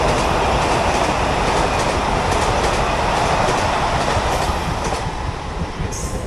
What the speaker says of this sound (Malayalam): ജൽഗാവിലേക്കുള്ള വന്ദേ ഭാരതാണ്.